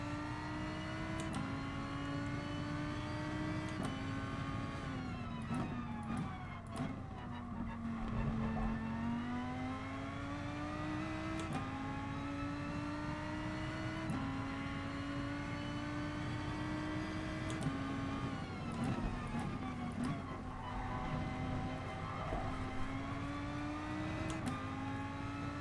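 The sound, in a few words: car engine driving in the video game GT Sport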